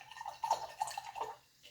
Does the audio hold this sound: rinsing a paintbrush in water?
yes